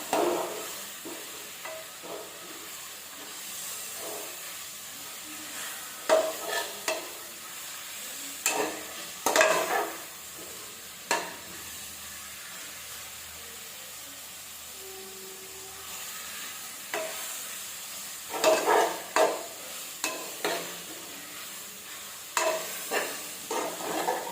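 Mookirattai greens sautéing in a pan for keerai soup, with soft steady sizzling and a few louder stirring scrapes and clatters at intervals, close by with no talk.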